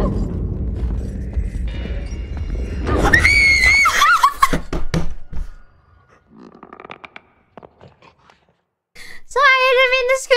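A person playing the horror game Little Nightmares lets out a sharp frightened scream over rumbling game sounds, then after a quiet gap gives a second high, wavering shriek close to the microphone.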